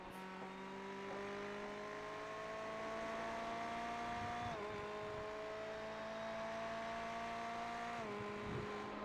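GT3 race cars in a sim racing endurance game at Road America, with a loud, steady engine whine that climbs through the gears and shifts twice in a clean upward sweep.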